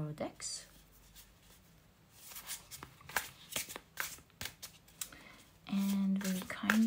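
A tarot deck is shuffled by hand in soft riffling bursts and card slaps while a person talks quietly, ending with a louder tonal sound.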